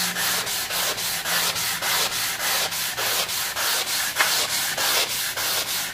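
A soft sanding sponge is rubbed back and forth over a surface in steady, even strokes, about three a second, close and fairly loud, with no talking.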